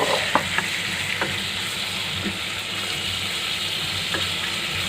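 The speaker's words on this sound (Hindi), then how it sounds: "इसको तेज़ आंच पर फ्राई कर लेंगे।" Chicken pieces fry in melted butter over high flame with a dense, steady sizzle and occasional light clicks of a utensil stirring, close by and without talk.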